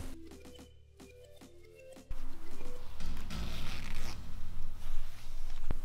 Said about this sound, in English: being really careful, I'm going to open this first seam until the point where I reinforced it.